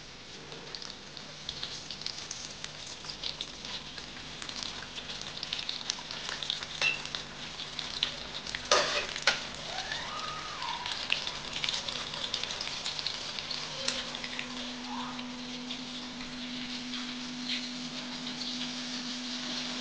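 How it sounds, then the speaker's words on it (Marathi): Semolina-coated fish sizzles steadily in hot oil, a continuous close frying hiss with occasional faint pops and a few brief chirping tones, no talking. "आता मासा त्याच्यामध्ये आपण सोडतोय।"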